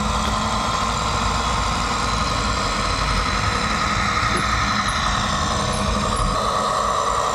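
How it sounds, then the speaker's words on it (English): A Piko 38509 model train's simulated engine sound drones steadily and loudly, a constant rumbling idle-like tone with no pauses and no talking. "if I give it a little gas, you'll hear the engine rev up a little more"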